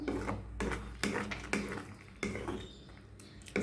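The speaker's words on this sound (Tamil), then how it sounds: "இதை அப்படியே நல்லா கிளறி கொடுங்க" Spoon stirring carrot halwa in a pan, with faint scraping and knocking against the metal in a steady stirring rhythm, quiet and close.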